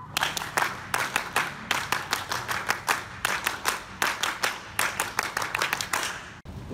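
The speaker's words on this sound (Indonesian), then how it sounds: "2 kali tepuk Pramuka." A group of scouts in a Pramuka Penggalang class for fifth and sixth graders performs the Pramuka scout clap, with steady bursts of crisp, close handclaps in quick rhythmic clusters repeating for several seconds.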